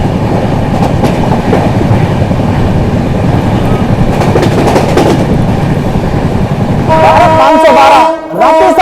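Indian Railways express train passing close by, its wagons rumbling with steady clickety-clack for several seconds before a loud horn blares near the end.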